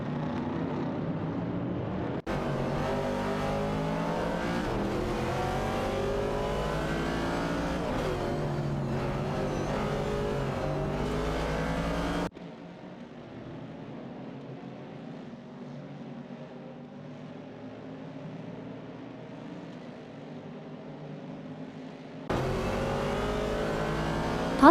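Ford Falcon and Ford Mustang Boss race cars in a racing video game, engines droning and revving continuously and moderately loud, with abrupt cuts and one quieter, duller stretch in the middle.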